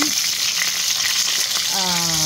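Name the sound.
frying daing na bangus (dried milkfish) in pan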